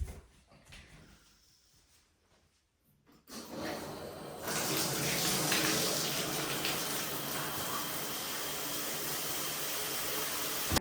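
Shower water runs steadily and fills the space with a broad hiss after a few seconds of quiet rustling and handling sounds.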